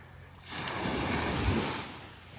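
Surf washes onto Morgan's Bay Beach, a soft breaking wave swelling in after a quiet start and then easing off, with light wind in the background.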